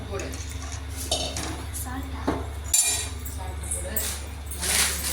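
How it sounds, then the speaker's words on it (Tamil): A spoon stirs tomato tamarind rasam in a metal pot, clinking and scraping against the sides in irregular strokes over a low steady hum. "போட்டுக்கிட்டு கிண்டி விட்டுக்கலாம் லைட்டாக"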